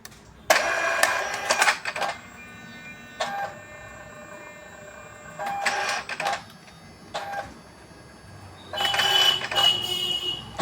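An ID card printer feeding and printing a sample card, a series of mechanical whirring and clicking bursts separated by quiet gaps, close and fairly loud, without talk.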